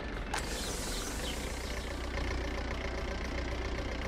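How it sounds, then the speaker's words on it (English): Tractors work farm fields in the city-building game Workers and Resources, giving a steady mid-to-low engine drone with mechanical clatter that stays constant and moderately loud throughout, without any speech. "Tractors, tractors. I hear them. There they are, tractors! Tractors are doing their thing."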